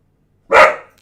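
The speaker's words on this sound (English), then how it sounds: "He's in there barking with a bone hanging out of his mouth." A dog lets out a single loud, close bark while holding a bone in its mouth, the sound short and slightly muffled and set against an otherwise quiet room.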